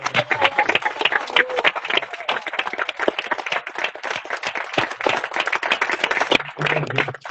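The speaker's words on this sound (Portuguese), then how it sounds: "Pessoal, um aplauso forte," Loud, close audience applause at a symposium, dense rapid clapping filling the whole stretch with steady intensity and a few voices faintly mixed in.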